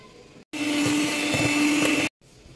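An electric hand mixer whirs steadily through cake batter as soybean oil is blended in, starting abruptly, holding a loud, even drone for about a second and a half, then cutting off.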